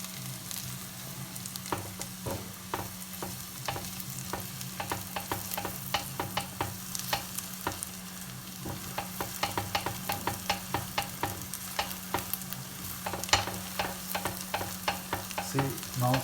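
Onion and garlic frying slowly in a pan for matar paneer, a soft steady sizzle with rhythmic spatula scrapes repeating every second or so, close but quiet, over a low steady hum.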